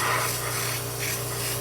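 Airbrush spraying food color onto Kreatex candy, a steady close hiss with a faint low hum beneath, continuous throughout without pauses.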